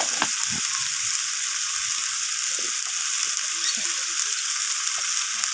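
Ginger, garlic and spices sauté with a barramundi fish head and salt in a pan for a Bengali Malabar spinach dish, giving a steady loud sizzle with occasional stirring scrapes and no talk.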